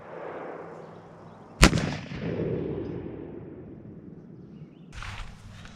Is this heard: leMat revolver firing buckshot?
yes